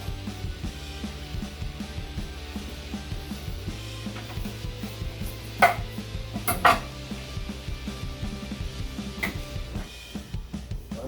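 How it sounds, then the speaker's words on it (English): A knife slices thinly through watermelon rind, trimming off the white pith for kimchi, with soft scraping cuts and a couple of sharper knocks against a board over a steady low kitchen hum. "So we're going to take a thin incision, getting all that beautiful white pith."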